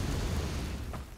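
A Confringo fire spell explodes in a Harry Potter video game, a short, dense burst of rumbling blast noise that fades over about a second, with no speech.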